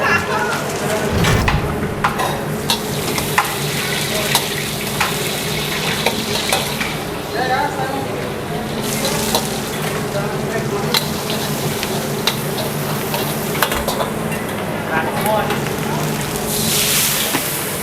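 A wok at a busy street food stall sizzles and crackles loudly and continuously as food is stir-fried, with frequent sharp metallic clangs of the spatula striking the pan; faint voices murmur in the background.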